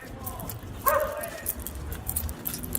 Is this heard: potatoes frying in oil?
no